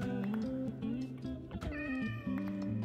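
Several cats meow repeatedly in a video game, their cries rising and falling in overlapping, drawn-out calls with a faint caterwaul, close and fairly quiet, with no voices.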